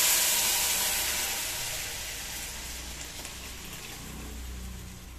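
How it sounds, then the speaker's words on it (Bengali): Hot water poured into a pot of Gobindabhog rice khichuri: a hissing, steaming rush that is loudest at the start and fades slightly, with a low bubbling rumble underneath and no talking. "গরম জল দিচ্ছি।"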